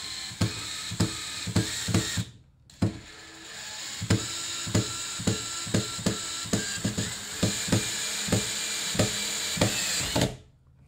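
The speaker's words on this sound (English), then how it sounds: "holding the drill upside down seems to work better" A power drill drives screws into the wood frame of a grill cart in short, rhythmic bursts of whirring and clicking, pausing briefly once before resuming the same steady pattern, close and fairly loud.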